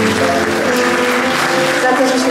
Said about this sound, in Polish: Poproszę o brawa dla Artura